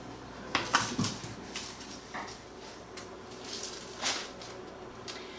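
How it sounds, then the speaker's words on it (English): Ribs get coated with barbecue rub inside a pan, giving scattered clinks and scrapes of metal and utensils against the pan, a few sharper knocks among quieter rustling, close by and with no talk. "I'm coating these in the pan because whatever excess barbecue rub we use, it's going to stay in the pan"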